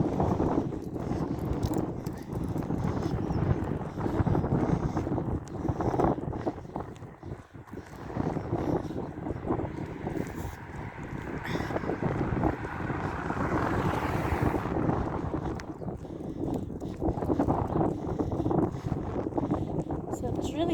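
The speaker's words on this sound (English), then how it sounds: "So it's really windy down here." Strong wind buffets the microphone in heavy gusts, a constant low roar with surges, while a person talks intermittently underneath.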